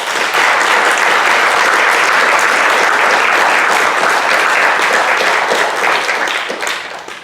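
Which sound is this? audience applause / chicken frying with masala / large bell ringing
audience applause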